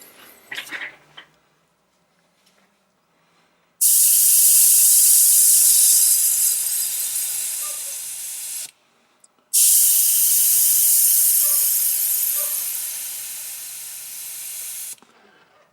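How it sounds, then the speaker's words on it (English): An Iwata HP-CS Eclipse airbrush sprays at 24 psi onto the back of a cardboard cereal box, producing two long, loud, steady hisses separated by a short pause, preceded by faint handling noise. "I'm going to leave it on this 24 psi. I'm going to see what kind of lines we can get from it, and I'm just spraying onto the back of an old breakfast cereal"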